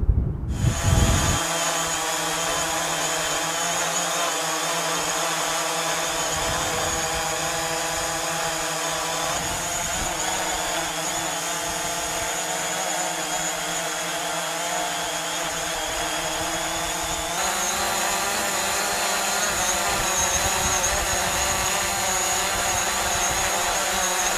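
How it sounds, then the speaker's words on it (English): An original DJI Mavic Pro drone hovering close by on a different set of propellers, a loud steady high-pitched whine and buzz that holds for the whole stretch with no talk. "a quick noise test, which is something I always do whenever I try a different pair of propellers or a different set of propellers on my drone"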